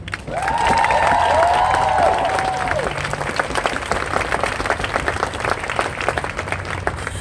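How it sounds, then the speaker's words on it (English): A crowd at a Black Lives Matter protest rally in Lansing breaks into loud, sustained applause and cheering, with a rising whistle early on and clapping continuing steadily to the end. "Please give a round of applause for Tiffany Eikens."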